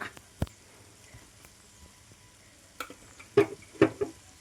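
Cooked chavani jackfruit stirred in a pan for a Kerala perattal dish: quiet, sparse scrapes and clinks of a spoon against the pan, with a few sharper knocks near the end.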